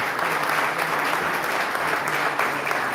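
Steady, dense applause from an audience at a community security and safety team launch event, continuous clapping holding at one level throughout with no voices over it.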